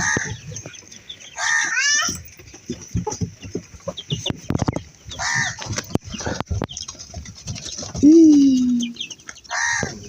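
Several chickens clucking up close in short bursts, with scattered pecking taps and a longer drawn-out squawk near the end; no speech.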